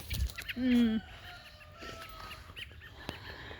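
Parent birds arriving at their fledglings perched on branches, announced by one loud, clucking call up close, followed by quieter chirps and a faint background murmur.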